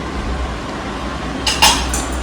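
A pressure cooker of dal and rice is opened in a home kitchen, giving a brief burst of metallic clinks and rattles of the lid and pots near the end, over a steady low background hum.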